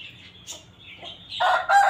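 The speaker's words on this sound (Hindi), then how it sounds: "ये मुर्गा देखें" Close, harsh squawking clucks from a breeder rooster, short and scratchy at first, then louder bursts toward the end.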